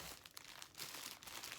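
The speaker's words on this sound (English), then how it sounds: "I'm gonna go ahead and kind of unwrap everything" Tissue paper from a Louis Vuitton purchase crinkles and rustles as it is unwrapped, a soft, steady crackling close by that stays quiet and has no talk over it.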